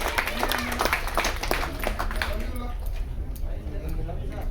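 Audience applause welcoming a speaker at a Tamil motivational meeting, steady dense clapping with crowd noise throughout, thinning toward the end.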